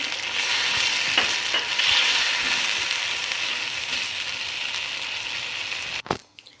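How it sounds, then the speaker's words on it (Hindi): Carrots and capsicum stir-fried over high flame in a pan for vegetable fried rice, a loud continuous sizzle with spatula scrapes throughout, ending in a sharp clank and a fading hiss, no talking. "1 मिनट से भी कम गाजर को फ्राई करना है और इसमें शिमला मिर्च ऐड की।"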